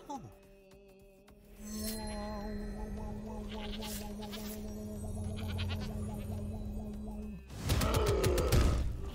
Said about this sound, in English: Are they feeding the goat to that monster?